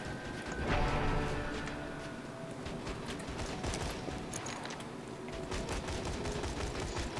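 A turret in Borderlands 2 fires a steady stream of rapid shots, continuous and fairly loud throughout, layered with other game effects and no talk.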